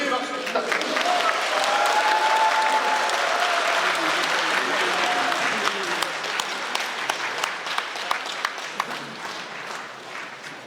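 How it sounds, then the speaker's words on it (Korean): A church congregation at a Catholic bishop's thanksgiving Mass claps warmly, dense applause that swells early, while a sung or held vocal tone rises above it briefly before the clapping thins out toward the end. "신자분들은 힘찬 격려의 박수 부탁드립니다"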